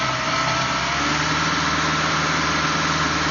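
A car engine runs steadily close by during an intake system cleaning, its tone shifting slightly as cleaner is sprayed into the intake, with no talking.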